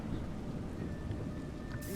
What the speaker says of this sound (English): You seem surprised that rain comes from the heavens.